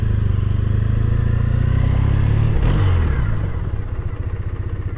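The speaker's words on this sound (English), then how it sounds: "You can hear the purr of the engine." Triumph Bonneville T100 motorcycle with stock exhaust running close by, a steady low, even engine rumble that holds level for several seconds before easing off slightly toward the end, with no talking over it.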